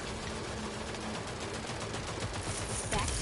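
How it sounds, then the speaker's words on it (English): Rapid automatic gunfire in a video game as an enemy shoots through a box, a dense steady rattle of shots filling the whole short stretch at close range. "This man was shooting through the damn box"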